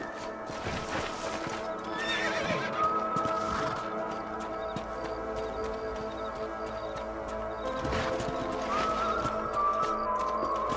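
Horses whinny twice over a steady clip-clop of hooves, set against a continuous layered soundscape from the video game Red Dead Redemption.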